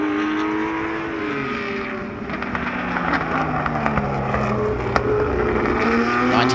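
A 1962 Ferrari and a 1958 Porsche battle wheel to wheel at the Sonoma Speed Festival, their engines a loud, steady roar with shifting pitch as the cars hold speed and rev, heard alone without talk.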